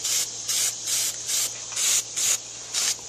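Automobile primer is sprayed from a can onto the inside of a clamshell cabinet from a 1935 Atwater Kent Model 145 radio, eight short hissing bursts in a quick even rhythm, close and clear.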